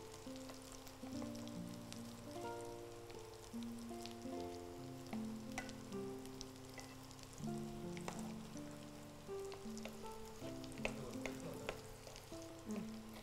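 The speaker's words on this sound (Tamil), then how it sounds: "நல்லா சூடான எண்ணெயில் அதிக நேரமாக பொரிச்சு எடுத்துக்கோங்க" Maida spring roll sticks deep-fry in hot oil with a steady, soft sizzle and light crackle, heard alongside background music with tonal notes.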